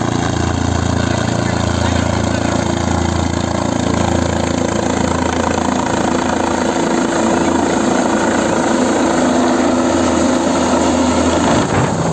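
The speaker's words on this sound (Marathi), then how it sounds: "आज त्यांचं स्वतःचं हेलिकॉप्टर घेऊन आज ते येत आहेत" A loud engine drones continuously up close, a steady mechanical roar with a whining tone, like a helicopter running nearby.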